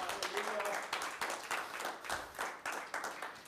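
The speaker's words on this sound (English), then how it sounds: "Clap your hands to the Lord." Church congregation clapping hands during a sermon, quiet rhythmic claps repeating in a loose beat, with voices mixed in underneath.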